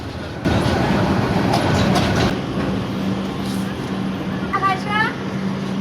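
A train rumbles and clatters nearby with a steady low hum, while voices talk faintly in the background.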